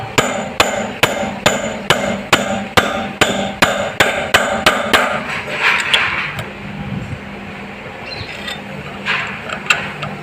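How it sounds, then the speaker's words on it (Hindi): Sharp hammer blows knock a tight drum bush out of a Honda CG 125 brake drum, about fifteen steady metallic strikes in quick succession over the first half, then softer scraping and handling sounds with a couple of stray taps. "मैं जो है ये हथौड़ी की मदद से इसको इस तरीके से निकाल रहा होता हूँ"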